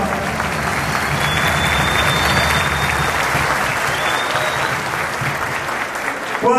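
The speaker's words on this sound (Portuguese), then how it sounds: "pedir uma salva de palmas a todos aqueles que me ajudam todos os dias a governar o nosso estado" A crowd at a state party conference in Maranhão applauds the governor's staff, a dense, steady wash of clapping and crowd noise lasting throughout at an even, loud level.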